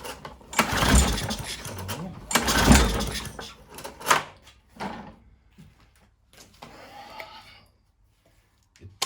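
A fully choked lawn mower engine is cranked repeatedly without catching: several loud pull-start bursts with sputtering turnover, separated by pauses and handling noises, close by and with no talk.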